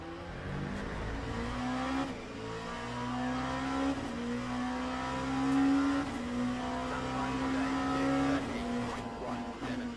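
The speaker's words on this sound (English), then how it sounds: "I didn't actually think the car sound was that high in the game." In a racing video game, a car engine revs and shifts through gears in repeated rising whines, changing pitch in steps as it accelerates, moderately loud and heard without any speech over it.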